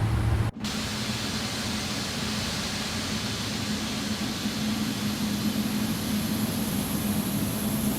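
A Boeing 777 taxiing out at London Heathrow in the X-Plane 12 flight simulator: a steady, broad engine roar and hiss that holds constant after a brief click near the start, with no talk.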